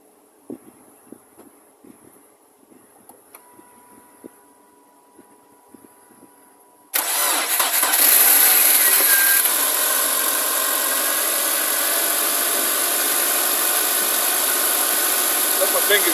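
A Subaru engine cold-starts with a short grinding crank, then settles into a loud, steady idle that continues unbroken, preceded by quiet clicks and taps from work under the hood.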